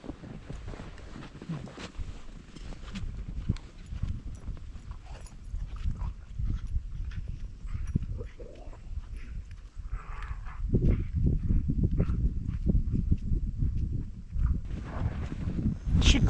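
Sophia, a horse kept in a backyard, moves about in the dirt, giving soft hoof thuds and scuffs amid gusty wind noise that grows louder toward the end, with no clear speech.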